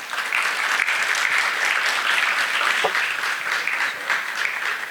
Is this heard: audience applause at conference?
yes